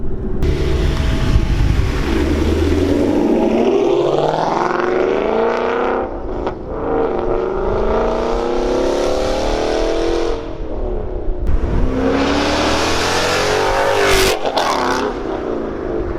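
A 2016 Ford Mustang GT engine revs hard and loud, rising and falling repeatedly with a throaty aftermarket exhaust roar, up close and continuous, with no talking.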